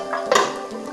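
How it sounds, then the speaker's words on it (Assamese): A lid set down on a cooking pot of Assamese sour fish curry with jackfruit seeds, giving a single short metallic clink against a soft background hum. "উতলিবৰ কাৰণে ঢাকনা এখন লগাই দিম।"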